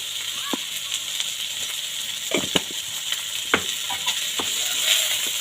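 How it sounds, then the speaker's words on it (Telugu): Cabbage for village-style noodles fries on high heat in a pan, making a steady close hiss, broken by several sharp scraping clatters of stirring. "హైలో పెట్టుకునే వేయించుకోవాలి దీన్ని. క్యాబేజ్ ఎక్కువ ఫ్రై అవసరం లేదు, లైట్గా ఫ్రై అయితే చాలు."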